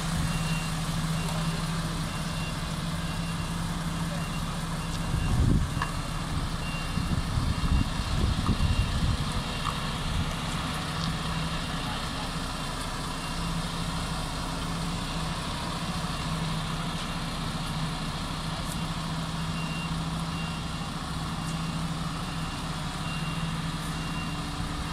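A Superlink truck reverses in South Africa while its backup alarm beeps steadily and repeatedly over a continuous low engine idle, with a brief rumble of heavier engine noise partway through.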